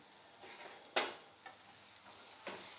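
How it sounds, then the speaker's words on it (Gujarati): Okra curry (bhinda nu shaak) is stirred in a pan over a soft sizzle. A few quiet, close spoon scrapes come at irregular intervals, with one sharper scrape near the start. "2-3 મિનિટ પછી ભીંડાનું શાક એક વખત હલાવી લેવું"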